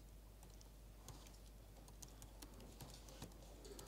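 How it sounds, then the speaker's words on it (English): Computer keyboard typing as quick, faint, irregular key clicks at a steady pace over low background hum. "I'm just going to type"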